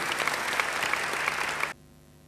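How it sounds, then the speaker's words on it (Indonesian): Congregation applause in a church, a dense burst of clapping lasting under two seconds before it cuts off abruptly into near silence. "Beri tepuk tangan yang baik bagi dia."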